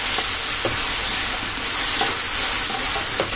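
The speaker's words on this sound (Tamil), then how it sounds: "இஞ்சி பூண்டு போட்டு நல்லா வதக்கி விட்டுருங்க." Ginger garlic paste sautéing in a pan for a rajma paneer gravy, giving a steady loud sizzle with a few soft stirring scrapes scattered through it.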